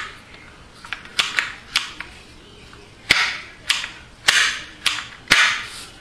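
Ruger 10/22 rifle with a five-position adjustable stock being folded to the left and back, heard as a series of sharp, close mechanical clicks and snaps spaced irregularly, several louder latches toward the end.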